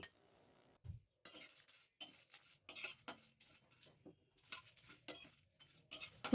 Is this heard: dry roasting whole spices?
yes